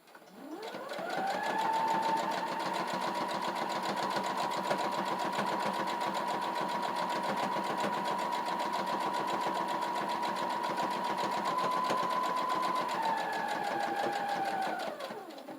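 A sewing machine quilting a small fabric mug rug runs steadily at speed for about fifteen seconds, a loud, even mechanical whir that spins up at the start and winds down at the end, with no voice over it.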